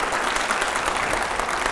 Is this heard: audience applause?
yes